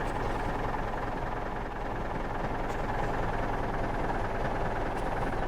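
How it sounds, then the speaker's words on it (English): The Kekmet tractor in My Winter Car runs with a steady, droning engine hum, a constant low mechanical rumble that barely varies, sounding strained and laboring. "It's like our tractor's dying."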